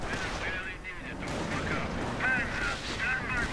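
Mortar rounds and artillery fire in a WWII strategy game, with rumbling explosions and gunfire layered under continuous commentary.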